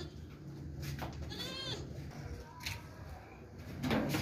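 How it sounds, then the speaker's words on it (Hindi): Goats at a livestock sale, a pair of a buck and a doe, give a short bleat over a low steady rumble of background noise, with a louder burst near the end. "ये बकरी खड़ी है और ये बकरा जा रहा है।"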